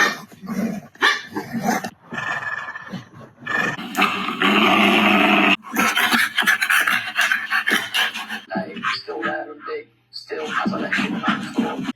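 A dog barks and growls repeatedly and up close, in rough bursts mixed with snarling noises that continue throughout.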